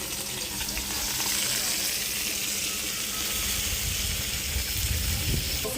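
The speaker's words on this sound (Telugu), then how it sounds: "తిరుమాత అయితే వేగింది కాబట్టి తోటకూర వేసుకుంటున్నా" Amaranth leaves drop into hot tempering in a pan, setting off a dense, constant hiss and sizzle close by, with some low rumble and stirring underneath.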